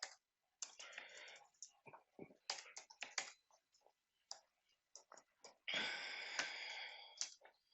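Computer keyboard typing up close, irregular bursts of clicking keystrokes with short pauses, plus a longer rustling or scraping stretch near the end, in an otherwise quiet room.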